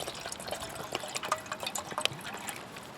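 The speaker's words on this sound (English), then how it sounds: "I'll take and put 2 cups of water into it." Two cups of water poured into a container, a light splashing, trickling stream with scattered drips and gurgles running steadily for about three seconds, close and fairly quiet.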